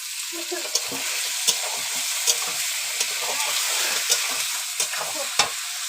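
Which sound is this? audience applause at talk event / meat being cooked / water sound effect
meat being cooked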